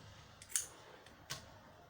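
Scissors cut fabric for an off-shoulder circle dress in two quick, quiet snips about three-quarters of a second apart, with no voices over them.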